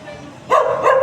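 A dog gives a short bark or yip close by, two quick bursts against a quiet background, at a free spay and castration clinic for cats and dogs.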